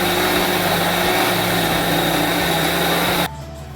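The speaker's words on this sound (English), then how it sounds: "I'm putting the remaining washed crayfish to grind." Electric grinder grinding washed crayfish for okra soup, a loud continuous high-pitched motor whir close by that cuts off abruptly near the end.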